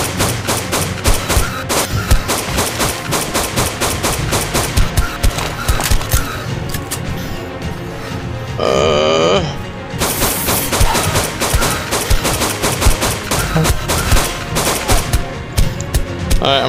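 Rapid gunfire in the video game ARK Survival at an ice cave, dense repeating bursts that fire loudly almost without pause, with horse-like whinnies and game noise mixed in.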